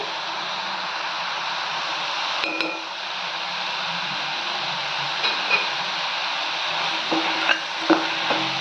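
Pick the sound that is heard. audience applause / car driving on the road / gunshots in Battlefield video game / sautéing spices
sautéing spices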